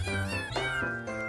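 Cats meow repeatedly in music, several drawn-out, wavering meows in quick succession, loud and close, over a dense musical backing.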